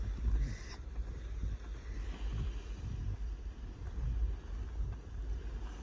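Wind blows outdoors on a windy day near a horse, low rumbling gusts buffeting the microphone in uneven surges, with a brief faint higher tone near the start.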